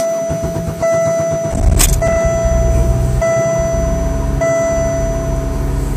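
A 1998 Oldsmobile LSS cranks over on a freezing morning and catches, settling into a steady close-up idle with a faint high whine and ticking above the engine rumble.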